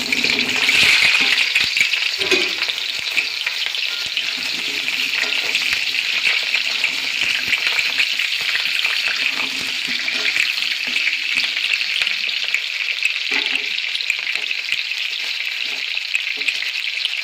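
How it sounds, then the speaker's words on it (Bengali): Potatoes frying in hot oil for alur dum, a loud, dense and continuous sizzle close up, with occasional faint scrapes of stirring underneath. "তেল গরম হয়ে গেলে এর মধ্যে আমি আলু ভেজে নেবো আগে"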